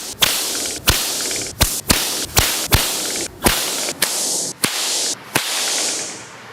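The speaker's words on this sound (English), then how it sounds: "We're just gonna show you how a whip breaks the sound barrier" A whip cracked again and again in a garage, each sharp loud snap from the tip breaking the sound barrier. About a dozen cracks come at a quick, slightly uneven pace, every one followed by a swishing rush of noise.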